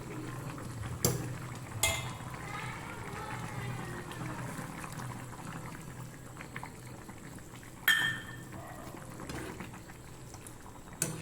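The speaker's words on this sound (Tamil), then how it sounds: "இப்போ புளி ஊற்றி குழம்பு நல்லா கொதிச்சிடுச்சு" Fish curry with dried fish and tamarind water simmering in a pot, a soft continuous bubbling under light kitchen clatter, with a few sharp utensil knocks against the vessel.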